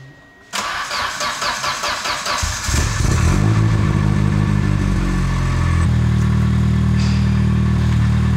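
An Audi engine freshly tuned with a new ECU map cranks with rhythmic starter churning, fires and catches, then revs up and settles into a loud, close, steady running drone with no talk.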